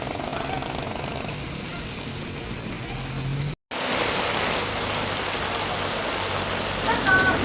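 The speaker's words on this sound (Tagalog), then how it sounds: "medyo lumalakas na yung ulan, sinasabayan pa ng hangin." Steady rain pours down with a broad hiss, gusts of wind mixed in, briefly cut out for a moment before resuming just as heavy.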